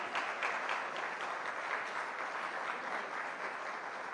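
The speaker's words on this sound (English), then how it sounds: "please once again join me in giving a huge round of applause to the extraordinary three-generation Sarod Quintet." Audience applause following a performance by a three-generation sarod quintet at a live evening event, steady dense clapping filling the hall throughout.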